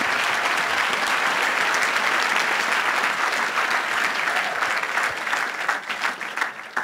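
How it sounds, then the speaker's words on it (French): Dense, sustained applause from a gathered crowd at an evening religious vigil fills the whole stretch, loud and even before thinning slightly toward the end. "On acclame le Seigneur pour Tella"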